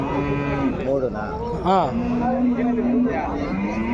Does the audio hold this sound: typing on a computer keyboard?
no